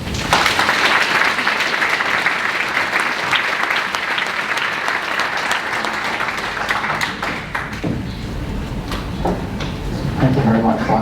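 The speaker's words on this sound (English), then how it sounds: "Please give him a big round of applause" An audience at the BrightonSEO 2021 conference claps in a sustained, even round of applause lasting the whole stretch, with some faint speech and shuffling toward the end.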